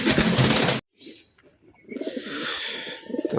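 A female pigeon coos in low, soft murmurs after a sudden loud burst of noise at the start that cuts off abruptly.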